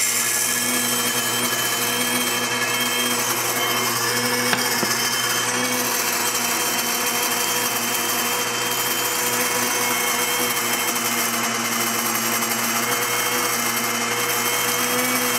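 Grain mill steadily grinding hard red winter wheat berries into flour in a kitchen, a loud continuous motor whine and grinding roar that holds steady throughout, with no talking.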